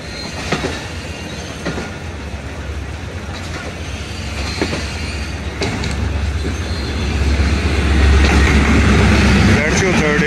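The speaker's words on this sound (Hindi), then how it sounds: "36304 लीड कर रहा है पाक बिजनेस एक्सप्रेस।" The Pak Business Express, led by locomotive 36304, passes on a Pakistani railway: a heavy rumble with wheel clatter and metallic squeal that grows steadily louder and closer toward the end.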